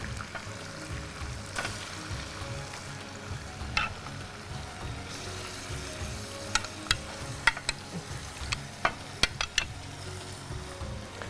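Chicken frying and being stirred into a thick gravy in a pan, with a steady sizzle and clattering spoon scrapes that sharpen toward the end, no talking.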